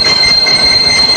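A train running on the Herne-Dortmund branch railway line, giving a steady loud rumble of rolling wheels with a high, constant squeal and no voices.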